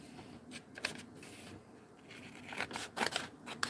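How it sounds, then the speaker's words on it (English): Scissors snip open a plastic bag at an art journaling table, a few quiet crisp cuts and rustles close to the mic, growing busier toward the end. "I'm going to go ahead and cut this bag open."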